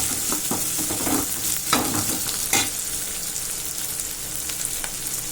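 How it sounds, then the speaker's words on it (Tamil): Onions sautéing in a pan until golden for a chow chow kootu, a loud continuous sizzle broken by several scraping stir strokes, close up with no voices. "நல்லா பொன்னிறமாக வதக்கிக்கோங்க"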